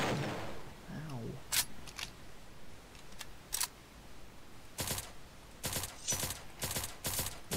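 Gunfire in the Roblox game Survive and Kill the Killers comes as sharp, isolated snapping shots and quick clusters, fairly faint, over a low background hum, with a brief voice early on.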